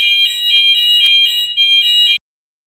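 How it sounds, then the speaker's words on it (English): A fire alarm blares continuously at close range, a loud steady electronic tone with slight pulsing that cuts off abruptly after about two seconds, followed by silence. "There's this alarm, fire alarm."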